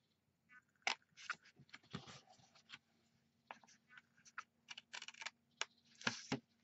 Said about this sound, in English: Then we are going to cut this part here.